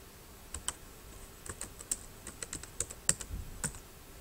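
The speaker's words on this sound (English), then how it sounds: "I'm going to start typing in this box here, and watch what happens when I start typing." Keystrokes tapped on a computer keyboard while entering a search term, a loose run of about a dozen close, crisp clicks in uneven bursts over quiet room tone.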